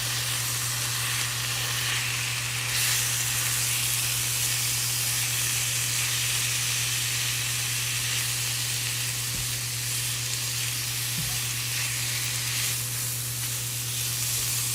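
Ground meat browns in a hot pan for Philly cheesesteaks with a loud, steady hiss and sizzle that is close and continuous, a low hum underneath and a couple of brief knocks; no voices.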